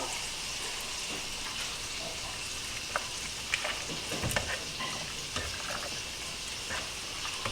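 A pot of water rolling at a boil for Roman-style carbonara pasta, a steady broadband bubbling hiss with occasional louder pops and splashes, close and continuous with no talk.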